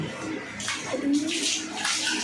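Water pours and splashes in short bursts, like a basin or bucket being emptied, fairly close and moderately loud, with a brief voice heard underneath.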